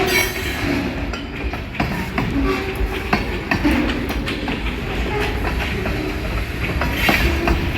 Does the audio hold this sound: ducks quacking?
no